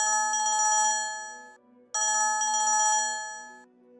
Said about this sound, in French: La sonnerie du téléphone m'a presque fait sortir de ma peau.